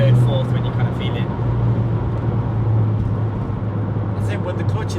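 A yellow Audi S3 8P tuned to Stage 2+, around 369 bhp, drives along with a steady low engine and road drone heard from inside the cabin, while people talk over it.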